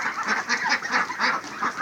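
Ducks, Muscovy ducks among them, crowd together on a farm, giving a dense, continuous chorus of nearby quacking and honking calls with no talking.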